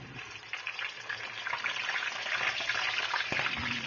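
Pork sisig frying in oil, giving a steady close crackling sizzle that gradually grows a little louder, with a few faint clicks of a utensil and no speech.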